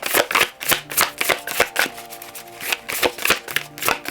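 Oracle cards are shuffled by hand in a quick series of crisp riffling bursts and flicks, close and fairly loud, with faint background music underneath.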